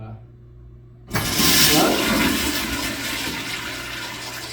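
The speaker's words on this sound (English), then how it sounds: "you're going to want to flush this toilet a couple times" A toilet flushes during a sewer dye test, a sudden loud rush of water after a quiet hum, then a steady swirling drain and refill that slowly eases while still running.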